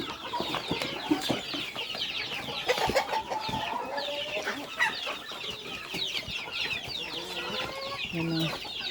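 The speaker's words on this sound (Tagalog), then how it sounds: "kumain na yung mga palanggang manok" Backyard chickens cluck busily while feeding together in the heat, a dense, continuous chatter of short clucks and squawks close by, with no talking.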